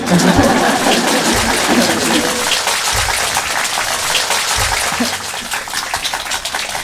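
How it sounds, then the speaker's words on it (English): A lecture audience breaks into loud, dense applause that keeps going strongly throughout, with a low voice heard briefly beneath the clapping. "Give me a big applause and I will disappear."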